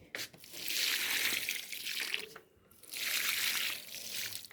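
Water pours from a hose or can onto rooftop garden plants, with Malabar spinach among them, in two long hissing splashing bursts separated by a brief pause, close and fairly steady.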